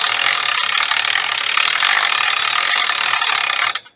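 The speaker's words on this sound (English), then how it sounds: "Two-speed ratchet." The two-speed ratchet handle on a Logrite Buck Arch log-skidding arch is cranked, giving a loud, close, continuous rasping clatter for nearly four seconds before it cuts off.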